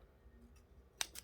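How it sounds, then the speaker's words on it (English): Wire cutters or scissors snip through wires for a wire wrap pendant: two sharp, close clicks about a fifth of a second apart after a quiet pause. "So we'll cut those wires"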